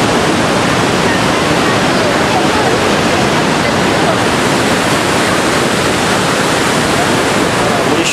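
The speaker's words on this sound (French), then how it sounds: "Là c'est le côté brésilien des chutes." The Brazilian side of a huge waterfall about 2 km wide gives a steady, dense roar of falling water, loud and unbroken throughout, with no other sound standing out.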